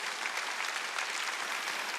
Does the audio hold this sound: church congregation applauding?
yes